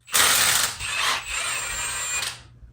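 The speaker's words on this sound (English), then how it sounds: "Some of you may be wondering why the impact wrench makes that weird sound like this." A Milwaukee Fuel brushless 1/2-inch cordless impact wrench whirs in three short bursts with a rapid hammering rattle, close and loud, ending abruptly.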